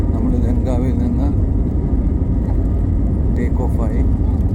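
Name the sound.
airplane starting to move after another flight landed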